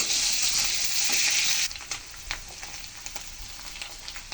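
Grated onion and garlic hit hot oil with a loud, bright sizzle that drops after a second or so to a quieter crackle, punctuated by scattered clicks of stirring in the pan.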